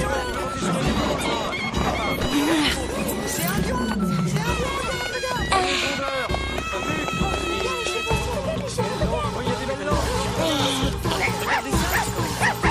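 A small cartoon dog yaps and yips amid busy animated-film music and effects, with characters talking over the action throughout.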